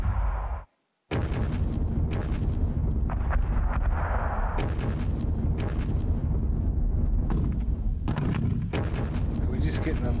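Mortar rounds and shell blasts from the wargame Panzer Battles Kursk, set on the southern flank at Krutoy Log, thud steadily through a dense, continuous battle din with repeated booms, a brief dropout near the start, and a voice talking over it.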